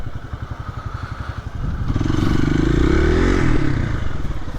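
Motorcycle at a hospital parking area idles with a rapid pulsing thump, then revs up into a louder, rising engine drone as it is maneuvered into place, close by.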